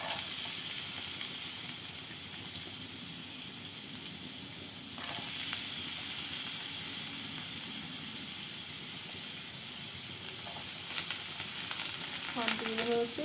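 Chopped carrots fry in hot oil with a loud, continuous sizzle and hiss close by, broken by a few stirring clinks toward the end.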